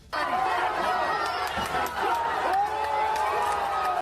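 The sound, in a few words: protesting crowd of women chanting slogans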